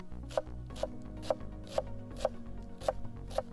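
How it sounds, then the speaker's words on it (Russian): Finely chopping fresh parsley and cilantro with a knife on a board, about seven crisp, evenly spaced cuts close up, roughly two per second, over a quiet outdoor background. "Теперь берем петрушку и кинзу и мелко начинаем нарезать."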